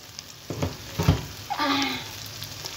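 Cooked rice is stir-fried in a pan for fried rice, giving a soft continuous sizzle broken by a few sharp scraping stirs of the spatula, close and fairly quiet.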